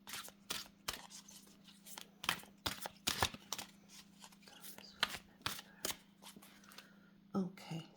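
Oracle cards are shuffled up close in quick, crisp riffling bursts with short pauses between, over a faint steady hum, and no one speaks.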